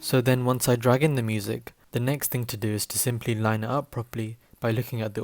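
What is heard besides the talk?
None of the usual background noises is heard.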